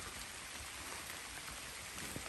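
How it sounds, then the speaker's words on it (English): Steady rain pours down outdoors at a duck hunting spot up north, a dense, even hiss of drops on surfaces continuing throughout with no pauses and no talking. "Nothing but rain"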